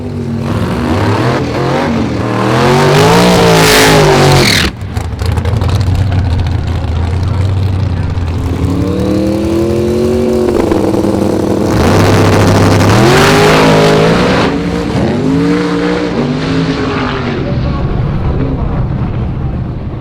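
Race car at a drag strip event on Route 66 near Chicago, a loud engine revving and roaring close by in several rising sweeps, with the pitch climbing through gears before fading toward the end.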